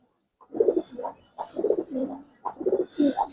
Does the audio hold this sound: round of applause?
no